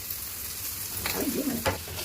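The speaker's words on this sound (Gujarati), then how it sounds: "હવે આપણે બધા મસાલા નાખી દીધા પછી સારી રીતે મિક્સ કરી નાખવાનું છે" Spices including chilli powder, coriander-cumin powder, turmeric and salt stirred into sizzling potato biryani masala, a constant close frying hiss broken by a few scraping stir strokes and a brief knock.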